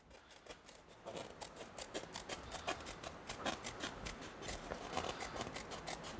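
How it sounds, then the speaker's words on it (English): Scissors snip steadily through material in quick, repeated cuts, close and soft, with no voices. "there's our current piece that I'm going to cut on the outside of the line"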